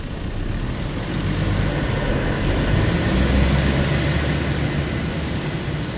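A Mitsubishi 4WD engine drones steadily while the vehicle sits bogged in beach sand, a loud close rumble that rises and holds with wheel and wind noise, with no voices.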